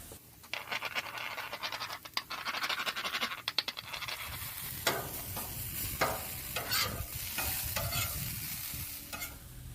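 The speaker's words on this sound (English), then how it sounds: "Let them fry up." Food for a bacon breakfast burrito fries on a Blackstone flat-top griddle with butter, salt and pepper, a constant sizzle broken by quick scraping spatula strokes in irregular bursts, close and fairly loud with no talking.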